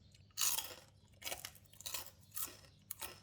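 Several loud, crisp crunches from close up as crispy pork rinds are eaten, each bite followed by brief chewing, with short quiet gaps between them.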